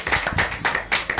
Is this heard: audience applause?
yes